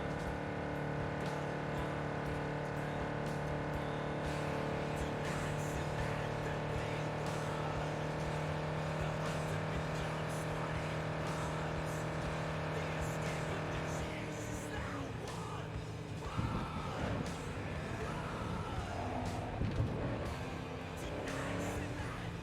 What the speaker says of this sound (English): Yeah, it does sound like I'm redlining the engine.